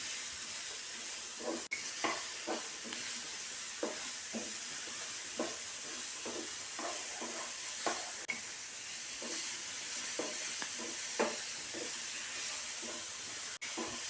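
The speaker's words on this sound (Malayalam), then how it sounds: "പിന്നീട് ഞാനൊരു പാൻ സ്റ്റവിൽ വെച്ച് 2 സ്പൂൺ നെയ്യ് ഒഴിച്ച് കൊടുത്ത് 2 നേന്ത്രപ്പഴം ചെറുതായി മുറിച്ചത് ഇട്ട് കൊടുത്ത് വഴറ്റിയെടുക്കുന്നുണ്ട്." Chopped ripe plantains sautéing in ghee in a pan, a steady frying sizzle with repeated stirring scrapes at an irregular rhythm, close and moderately loud throughout.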